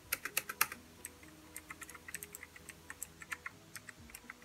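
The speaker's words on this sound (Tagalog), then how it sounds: "Malas guys yung tunog niya pag pinipindot. Kasi guys, ito ay blue mechanical switches." Keys clack on a RAKK Kimat XT LE mechanical keyboard with blue switches, a quick run of crisp clicky presses close up in an irregular typing rhythm.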